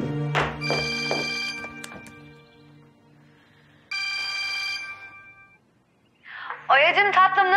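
A telephone rings repeatedly through the earpiece during an outgoing call, ringback tones in steady pulses between quieter gaps, with a voice speaking before and after.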